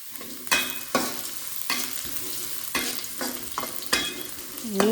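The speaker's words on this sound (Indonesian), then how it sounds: "Kemudian bawang putih. Ini kita tumis biasa aja ya." Garlic sautéing in a pan for a stir-fried bottle gourd vegetable dish, steady sizzling frying broken by repeated sharp clanks and scrapes of a utensil stirring, close and fairly loud with no talk.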